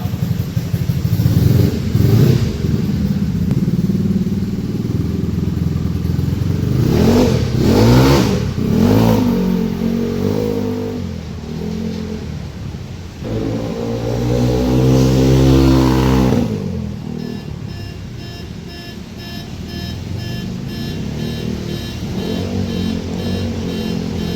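A car fitted with a prototype exhaust revs repeatedly while driving, rising and falling in loud bursts with a raspy exhaust note, then settling into a lower idle-like drone.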